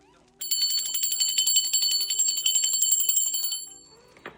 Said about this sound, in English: I'm going to ring the bell for my spirit guides, guardian angels, and ancestors